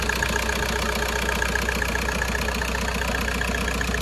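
A BMW car engine idles with a steady, even mid-to-low rumble, close and continuous throughout with no voices over it.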